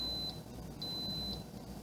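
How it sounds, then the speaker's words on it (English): Three short, high electronic beeps from a Cosori multi cooker, evenly spaced over a low background hum, clear and close. "And then it beeps at you."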